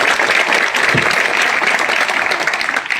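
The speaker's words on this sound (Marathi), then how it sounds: "ही मंडळी यायच्यासाठी टाळ्या वाजवा पहिले जोरात" A crowd claps loudly at a public gathering: dense, continuous applause that holds steady throughout and tapers only slightly at the end.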